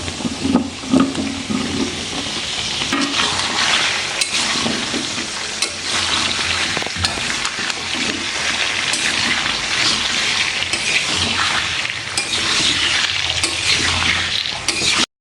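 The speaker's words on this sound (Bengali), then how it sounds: "আলুর সাথে একবারে পেঁপেগুলো ভেজে নিই।" Papaya pieces and potatoes fry together in hot oil for a duck curry, giving a loud, continuous sizzle with occasional stirring scrapes throughout, and no voices.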